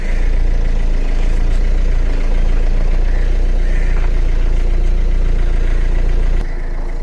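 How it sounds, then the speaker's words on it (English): Ford Fiesta Classic engine idling steadily and loud for about six seconds while the steering is turned lock to lock during a power steering oil top-up, with a faint whine riding on the hum before it cuts off near the end. "Now I will start the engine and move my steering from lock to lock."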